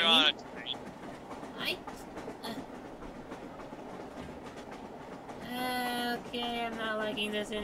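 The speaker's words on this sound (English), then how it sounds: "Why are we on a train?" A train rolls along rails in Garry's Mod, a low steady rumble with faint rhythmic clacking that continues throughout, while a voice speaks over it at the start and higher tones rise near the end.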